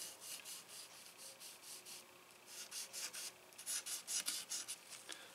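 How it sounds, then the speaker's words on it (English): A scrap piece of guitar string rubbed across polished electric guitar frets, quick rhythmic scratchy swipes, faint and close, growing faster and louder toward the end, no voices. "I take a leftover piece of guitar string and just run it across like this."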